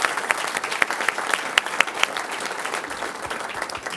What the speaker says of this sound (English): giving them another round of applause for all the work they do